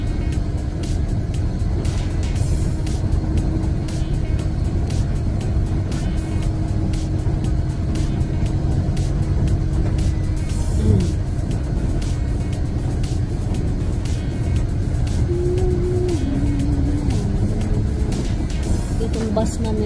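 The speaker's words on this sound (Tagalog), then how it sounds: "Itong bus namin ay number bus 300." City bus number 300 driving on a snowy day, a steady low engine and road rumble that holds throughout, with people talking over it.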